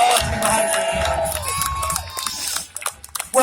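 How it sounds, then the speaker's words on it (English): Outdoor crowd at an air show cheering and applauding BMX riders after a trick, a loud burst of shouts and clapping that thins out toward the end with a few louder whoops. "give them a big round of applause to all three riders right now."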